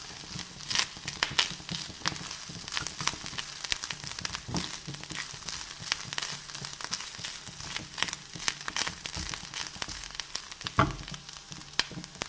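Mustard seeds and coconut crackle and pop in hot oil in a pan while tempering for pumpkin erissery, a steady close sizzle with sharp scattered spits and no talking.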